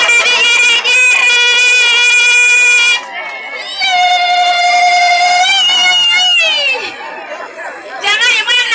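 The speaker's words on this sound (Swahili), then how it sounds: "Jamani, shangwe na vigelegele!" Guests at a bride's send-off party cheer and ululate loudly in sustained, wavering trilling bursts, pausing briefly around the third second and again near the end, with crowd chatter mixed in.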